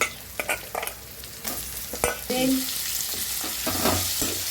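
Mutton with onions and green chillies frying in a pan, a close sizzle with scraping stirs and clinks, quieter at first and then a fuller sizzle.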